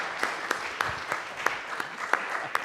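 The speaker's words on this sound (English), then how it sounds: "Now we can applaud Callie" A church congregation gathered for a Sunday service gives faint, sparse applause, a light patter of claps from a distance.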